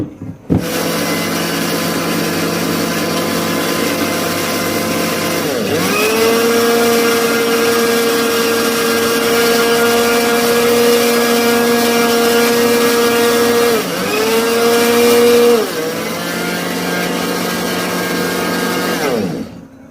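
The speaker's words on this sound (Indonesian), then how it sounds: "sekarang kita mulai memblender ya" An electric blender whirs loudly and steadily grinding a spice paste for marinade, its pitch dipping briefly as it labors through the thick mixture, then cutting off.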